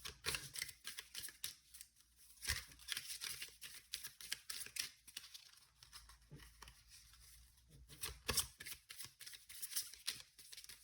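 Oracle cards shuffled by hand in a collective reading, a quiet stream of crisp riffling and flicking bursts that pause and resume, with no talking.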